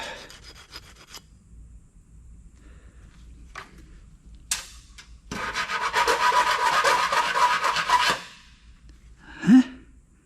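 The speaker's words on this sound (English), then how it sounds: "I can't see any brass shining through, but let's give it a scrape." A metal part from a shower tower being scraped to expose brass, with a few short rubs at first, then a loud sustained rasping scrape lasting about three seconds, followed by a final brief scrape.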